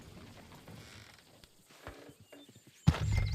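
Horses in the video game Red Dead Redemption 2, soft hoof and tack movement followed by a sudden loud snort or whinny close by near the end.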